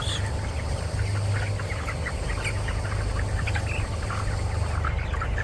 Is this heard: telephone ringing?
no